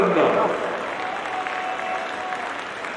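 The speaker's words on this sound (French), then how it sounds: "On peut encore les applaudir." A crowd at the Spa-Francorchamps 25-hour Fun Cup podium ceremony applauds the class finishers, a dense, steady clapping that stays moderately loud and fairly distant throughout.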